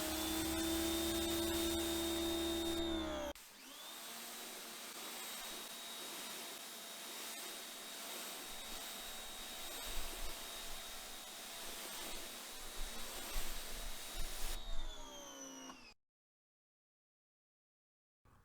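A Giraffe Tools Grandfalls pressure washer runs with a steady loud motor drone and hiss, the pitch shifting as it starts a new phase partway through, then cutting off to silence near the end.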